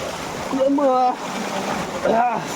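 Water rushes and flows steadily at the Moola Kona waterfall in Andhra Pradesh, a continuous broadband wash, while people talk over it nearby.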